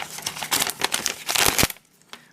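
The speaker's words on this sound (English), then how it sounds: "Let's just rip this shit open." A mail package is torn open close up, with loud crinkling and ripping of packaging in quick bursts before it drops to near quiet.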